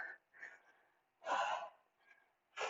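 Breaths during a yoga exercise: close, deliberate inhales and exhales alternate, with two longer, louder, rushing exhales standing out in an otherwise quiet space.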